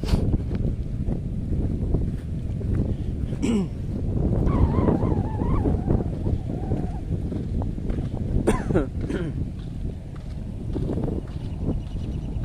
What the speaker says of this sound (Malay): Kuat pula angin juga sini.